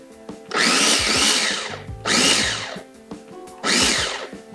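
A food processor whirs through baby spinach for pesto in three loud pulses of about a second each, separated by brief quiet pauses with a few clicks.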